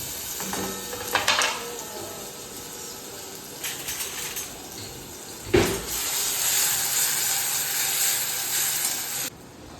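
Onion and tomato sizzling in hot oil as tempering for Maggi noodles, with intermittent clinks and scrapes of utensils on a pan, the frying hiss growing steadier toward the end.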